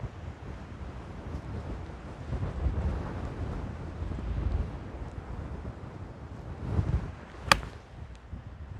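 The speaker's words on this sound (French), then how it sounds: "Il y a un vent du tonnerre." Strong gusty wind buffets the microphone on a windy golf course near Rochefort, a continuous roaring rush that swells and fades in surges, loud and close, with a sharp brief knock near the end and no talking.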